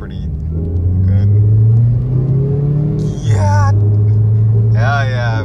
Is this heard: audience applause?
no